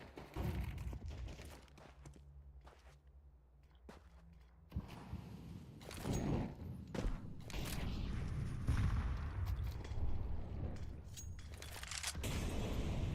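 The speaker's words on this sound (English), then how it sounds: "A lot of grenades being thrown in" Grenades going off during a professional Counter-Strike match, with a series of sharp, loud bursts and rumbling booms spread irregularly across the stretch, a quieter lull early on, then dense back-to-back blasts and scattered gunfire.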